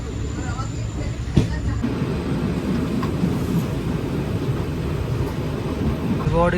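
The Tutari Express pulls out of Vaibhavwadi railway station on a rainy-season Konkan run, a steady, loud rolling rumble with a sharp knock early on and a few faint squeals.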